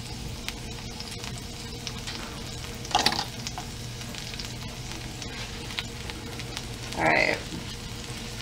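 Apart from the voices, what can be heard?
food frying in coconut oil in a pan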